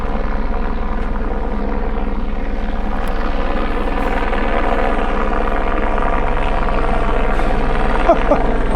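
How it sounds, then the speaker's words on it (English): A helicopter flies overhead near Saddleback Mountain, its loud, steady rotor thump and engine drone filling the air close by for the whole stretch. "For some reason, they sent a helicopter."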